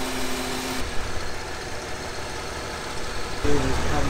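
A Ford F150 with the 4.9 engine, just back from a head gasket repair, idles steadily with a constant mid-pitched rumble, loud and close throughout.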